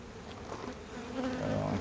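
Close, loud buzzing of wasps around a beehive at the end of summer, a continuous droning hum that swells slightly toward the end.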